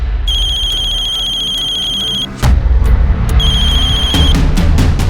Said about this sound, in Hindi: उसका हमारे पास फोन आया।